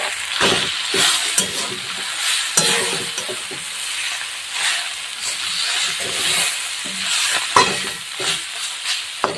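Wild forest greens, softened and frying in a pan, are stirred with irregular scraping strokes over a steady close sizzle and hiss, with no talking.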